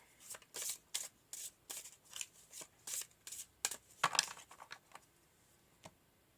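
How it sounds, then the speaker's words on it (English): Tarot cards being shuffled by hand, a quiet, close series of about a dozen short riffling bursts in an uneven rhythm, with no other sound around them. "we're just going to pull some more cards just to get a bit more insight"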